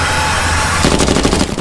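Rapid gunfire from a dubbed action movie erupts partway through as dense, rattling machine-gun bursts over a constant backdrop of film sound.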